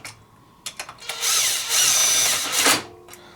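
A power drill runs down bolts on a RZR primary clutch, a few short clicks and bursts followed by a loud sustained whir of about a second and a half, close up and without talking.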